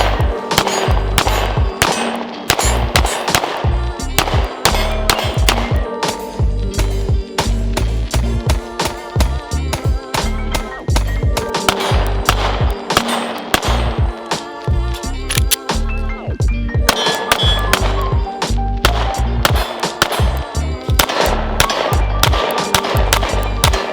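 Rapid, loud gunfire from a Sig Sauer P365X Macro pistol with an internally compensated barrel, shots coming in fast, dense strings that keep going with barely a pause.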